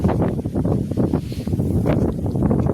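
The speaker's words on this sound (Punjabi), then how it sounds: "ਹਵਾ ਚੱਲ ਰਹੀ ਆ ਪੂਰਾ ਫੁੱਲ ਤੇ" Strong wind over a wheat field buffets the microphone in a constant loud, low rumbling roar with gusty surges, no voices heard.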